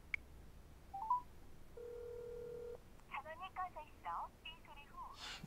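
A telephone keypad tone and a steady dial tone are followed by a quick run of DTMF dialing beeps, faint under an indoor room hush, with voices talking at the start.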